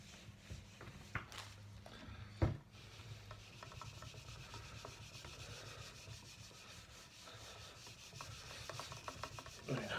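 Hand-buffing polish into a wooden shelf with a cloth, a faint, steady rubbing swish that repeats in soft strokes, with a brief knock partway through.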